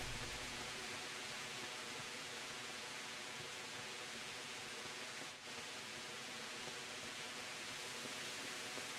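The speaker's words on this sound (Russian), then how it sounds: "это погода испортилась, вот и шумит, дождь начался." Steady, dense hiss of rain falling in the medieval role-playing game Kingdom Come: Deliverance, an even wash of noise lasting the whole stretch with no voices and only a brief dip midway.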